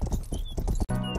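Horse hooves clip-clopping in the medieval video game Rustler, a quick run of rhythmic hoof beats, loud and close, with a brief dropout near the end.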